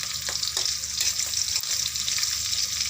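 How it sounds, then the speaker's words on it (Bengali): Steady crackling sizzle of chilies and onions frying in hot oil for a Malabar spinach dish, dense and continuous with faint scraping, no voices. "মরিচ পেঁয়াজ"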